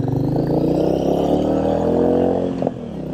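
A Royal Enfield Meteor 350 motorcycle with chrome spoke wheels runs close by, its single-cylinder engine holding a steady, even throb before a brief clack near the end.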